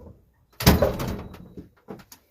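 A patio door is opened or closed at home, giving a sharp thud with a rattling slide that lasts about a second, followed by a few softer knocks, fairly close and with no one talking.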